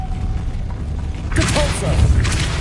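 A Depulso spell cast in Hogwarts Legacy goes off after a quiet lead-in: a sudden, loud burst of whooshing, thumping force that lingers briefly over a low rumble.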